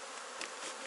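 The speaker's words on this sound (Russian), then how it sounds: "на меня пчелы не садятся, не жалят, взлетают" Honeybees fly around a beekeeper working an open hive, a steady close buzzing swarm heard alone in a brief moment.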